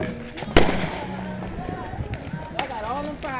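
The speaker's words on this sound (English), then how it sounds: "I got all them firecrackers." New Year's celebration with fireworks and firecrackers: one sharp nearby bang early on and a second crack later, with people talking and calling out around the noise.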